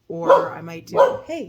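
A dog nearby gives two short, sharp barks, then a brief whine, breaking in over someone speaking.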